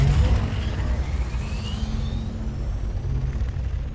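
Ornithopter from the Dune Awakening video game, a loud rumbling mechanical roar of beating wings with a rising whine, heavy and steady throughout.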